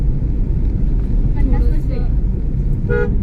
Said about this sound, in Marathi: अगं ते टू व्हीलर आहे पप्पा गाडी किती पळवतात बघ